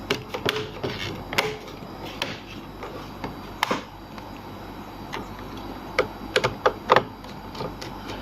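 Small screws are driven into the case of a Dell Latitude E5470 laptop, producing a string of sharp, close clicks and ticks at uneven intervals over a quiet background.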